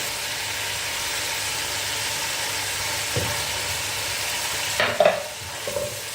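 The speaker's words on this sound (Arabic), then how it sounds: "درك ندير الثوم ديالي باش نقليها شويه برك" Garlic frying in a pan, a steady soft sizzle with some stirring, and a few louder clatters of utensils toward the end.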